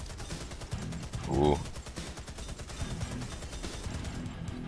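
A suppressed assault rifle in the shooter Warface fires a rapid string of muffled shots at a steady pace, fairly quiet under a voice and a brief exclamation.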